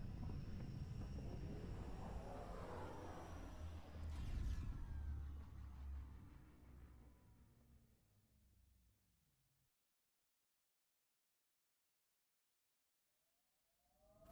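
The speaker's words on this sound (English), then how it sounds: "Descent engine engaged." A spacecraft descent engine in the Mass Effect Andromeda video game roars loudly as a broad rumbling rush, then fades away and cuts to near silence before a faint new sound begins.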